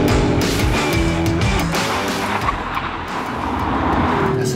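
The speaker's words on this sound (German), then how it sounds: "um den Motor zu hören, muss man so schnell fahren" An Audi RS4 Avant estate with a biturbo V6 at very high speed produces a loud, continuous rush of engine and road noise with no pauses.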